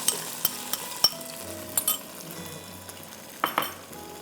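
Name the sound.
ingredient frying in hot pomace olive oil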